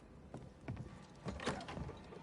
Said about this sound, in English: Weird creak.